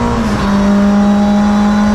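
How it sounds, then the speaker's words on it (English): Touring race car at Donington circuit in a CSCC Tin Top race, loud engine holding a steady droning note throughout. "Back into the pits comes the 114 car."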